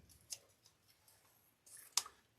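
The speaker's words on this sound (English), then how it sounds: "Get my scissors." Scissors cut ribbon for a moss floral wreath, two quiet, crisp snips close by, the second followed by a soft rustle of ribbon, with no talking.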